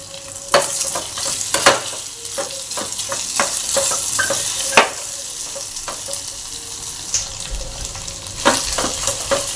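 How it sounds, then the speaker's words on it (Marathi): Boiled, peeled and chopped potatoes sauté in a roasted masala with a continuous close sizzle, punctuated by repeated scraping and clinking of a spoon stirring the pan. "बटाटा ही 2 मिनिटे आपण परतून घेतलेला आहे मसाल्यामध्ये"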